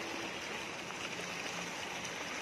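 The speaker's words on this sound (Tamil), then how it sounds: "இப்ப நம்ம பாக்குற அந்த கிணத்துல வர போர் தண்ணி பாருங்க, 2 இன்ச் தண்ணி." Bore well water pours steadily from a 2-inch pipe into a farm well, making a continuous rushing, splashing wash at a constant close level with no break and no voices.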